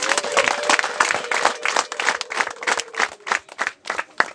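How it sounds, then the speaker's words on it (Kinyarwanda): An audience claps together at a traditional Rwandan engagement and dowry ceremony in Kagarama. The rhythmic claps come in quick, fairly close bursts over a faint sustained tone. "mukoma amashyi mushimire Imana"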